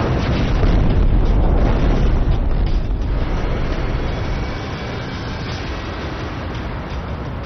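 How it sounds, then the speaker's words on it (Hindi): Bomb explosion in news footage from 4 August 2020, a loud, sustained low rumble and roar that dominates from the start, then eases slightly to a steady heavy drone after about four seconds. "बम धमाके की ये 2 तस्वीरें इतिहास शायद ही कभी भूल पाएगा"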